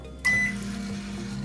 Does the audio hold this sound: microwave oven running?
yes